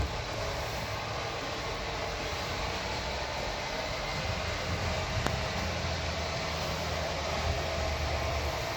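Model train, a Pacemaker freight pulled by a Hudson locomotive, running on a detailed model railroad layout: a continuous, even rumbling whir with a faint sharp tick partway through, no talking.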